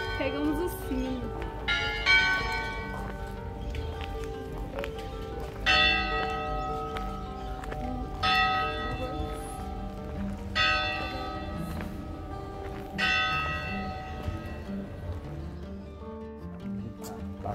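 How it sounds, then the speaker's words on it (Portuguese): A church bell in the historic town of Goiás Velho tolls at four in the afternoon, with about six loud strikes roughly two and a half seconds apart, each ringing on and fading over a steady outdoor background. "Pegamos o sino."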